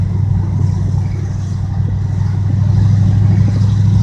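Chrysler 300 J with a big V8 running through an H-pipe exhaust, a steady deep rumbling idle with a slight lift in revs, close and loud with no talking.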